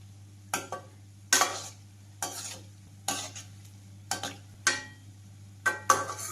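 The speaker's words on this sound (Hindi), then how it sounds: "गुलाब जामुन को ऊपर नीचे कर देंगे जिससे कि एक जैसा सिक के तैयार हो जाएंगे" Gulab jamun frying on a medium-low flame in a pan, turned over now and then; repeated stirring scrapes and short splashy bursts come every second or so over a steady low hum.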